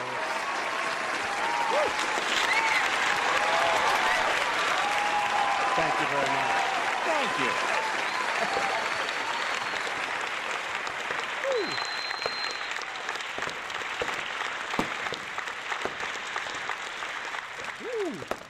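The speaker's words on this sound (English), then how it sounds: "give you guys a round of applause" A canned crowd applause effect runs loud and continuous, with a voice whooping and saying thanks over it before the clapping thins out near the end.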